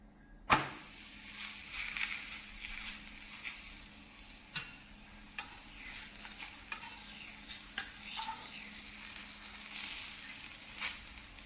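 A poppy-seed pumpkin chapati roasts on a pan, giving a faint steady sizzle with occasional soft taps and scrapes as it is turned, close and quiet.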